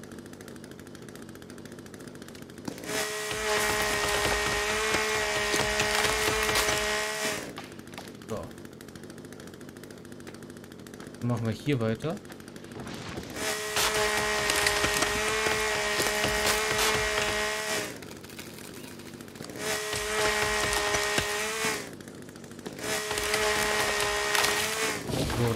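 Chainsaw cutting through wood in the survival video game The Forest, heard as loud sustained buzzing bursts of several seconds each, three main runs separated by short pauses, with someone talking between them.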